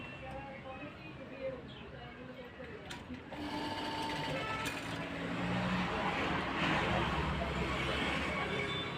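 A sewing machine stitches a double seam on a katori blouse, running in a steady continuous whir that grows louder and busier after the first few seconds, with no talking over it.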